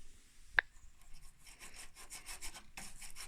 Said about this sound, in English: I'm going to get my brush and I'm going to work it in and clean all the way along in those grooves along the back